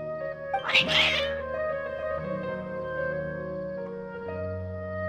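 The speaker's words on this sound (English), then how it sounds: "Your cats seem pretty worked up." Cats meowing in Genshin Impact, one clear meow near the start over a sustained musical game soundtrack of held tones.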